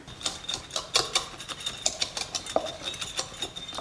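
Gingerbread cookie dough with chopped apricots being mixed in a bowl, a quick irregular run of clicking, tapping utensil strokes against the dish, close and continuous with no voices.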